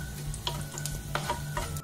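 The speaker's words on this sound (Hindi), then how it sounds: "थोड़ा सा जिंजर, ग्रीन चिलीज और इसे हम अब सॉटे कर लेंगे।" Ginger and green chilies sautéed in a pan, a quiet, steady sizzle with a few light scraping strokes of a spatula and a faint background hum, no speech.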